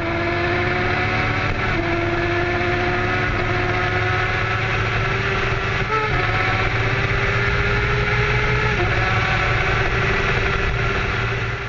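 A motorcycle engine runs steadily and close up as the rider flees police, with gear shifts and rising pitch while accelerating. The sound is continuous and loud, as picked up by a camera mounted on the bike.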